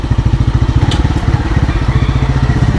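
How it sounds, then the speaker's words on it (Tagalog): A motorcycle engine chugs loudly and close by near a tunnel in the Sierra Madre mountains, a rapid steady pulsing putter that holds for a few seconds with no voices. "May mga motor pala dito"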